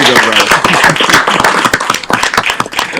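Applause from the audience at a city council meeting, a dense, close burst of individual claps mixed with scattered voices and cheering, loud throughout.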